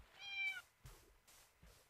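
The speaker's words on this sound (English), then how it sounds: "It is a freaking cat, isn't it?" A cat meows once in the Minecraft video game, a clear rising-then-falling call followed by soft thumps from game play, with no talking.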